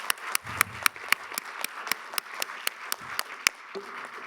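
A small audience at a museum careers event claps sparsely, with distinct separate hand claps ringing out at an irregular pace over a quiet room, and a few faint voices underneath.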